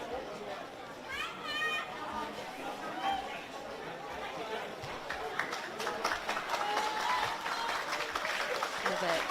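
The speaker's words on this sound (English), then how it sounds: "getting a nice round of applause there" A stadium crowd applauds as an injured player leaves the field during a women's rugby match between NSWC Corellas and ACT & SNSW Kestrels. The clapping is faint and distant, grows slightly later, and sits under steady commentary.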